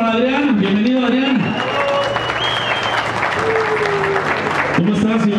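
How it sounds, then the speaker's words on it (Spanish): An audience greets boxer Adrián Hernández with applause and some crowd noise, the clapping sustained throughout and blended with a voice and music-like tones. "Aplauso para Adrián."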